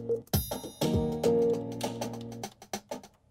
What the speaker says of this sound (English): There's one like a crash that comes in the beginning.